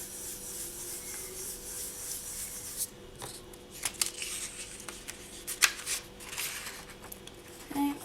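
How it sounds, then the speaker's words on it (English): Gentle hand burnishing of a metal earring at its join line, heard as soft, intermittent rubbing and light scraping strokes, faint and close, with a few sharper ticks near the end and no talk. "You just want to give it a very gentle burnish, like so."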